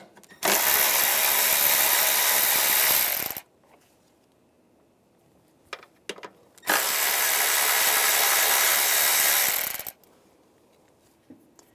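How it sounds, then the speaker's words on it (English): Power tool with a 10mm socket spinning off two nuts on a 2011-2018 RAM 1500 3.6L V6 intake, two loud sustained whirring bursts of about three seconds each, separated by quiet clicks and clatter. "Using a 10mm socket, take these two nuts off."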